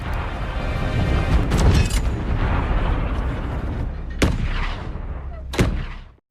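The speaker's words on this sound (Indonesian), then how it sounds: "Sersan Shen Fei pun menembaki pesawat itu." An anti-aircraft cannon in a war film about Chinese soldiers fighting American forces fires at an American plane: a loud rumbling barrage followed by two sharp separate booming shots, close and heavy, with no talking.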